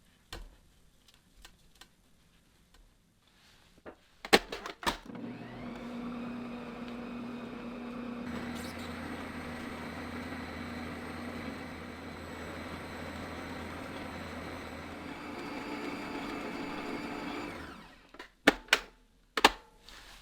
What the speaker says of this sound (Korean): 반죽볼 주변이 깨끗하게 다 반죽이 흡수가 돼서 믹싱이 되고